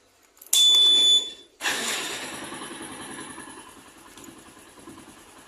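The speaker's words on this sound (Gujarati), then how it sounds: "હાલો આપણે બાઇક કરીએ સ્ટાર્ટ" A motorcycle engine cranks with a sharp electric whine, then catches and settles into a steady idle that gradually quiets.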